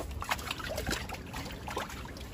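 Water trickles and splashes softly while an anglerfish is washed outdoors at the shore, a faint, close dribbling with small irregular splashes and no talking.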